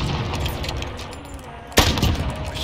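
Gunfire in Call of Duty Modern Warfare during a 1v1v1 match, steady background game noise broken by one sharp loud shot near the end.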